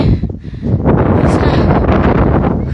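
Strong wind buffets a microphone high on the Langkawi Sky Bridge, a loud continuous roaring rumble that surges and dips briefly before gusting on, close and unbroken.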